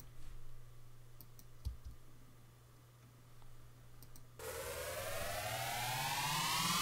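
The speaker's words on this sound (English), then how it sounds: "my tonal builds that I've been working on recently" A dubstep tonal build: after a quiet, low-humming stretch, a bright synth riser enters abruptly and sweeps steadily upward in pitch and loudness until the clip ends.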